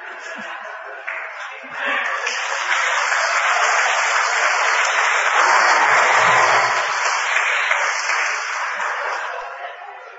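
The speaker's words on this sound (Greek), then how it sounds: "Μη χειροκροτείτε" An audience at a political speech breaks into sustained applause, a dense wash of clapping that swells and holds for several seconds, with a voice or shout cutting through and a whistling tone above the crowd.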